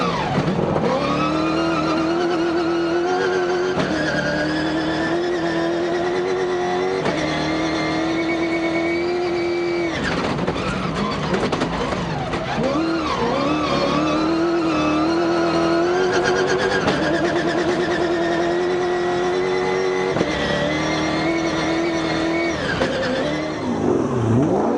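Onboard a race car driven by de Villiers in the Toyota 1000 race, the engine loud and close, revving up through gears, dropping on braking and climbing again, with brief tire squeal in corners.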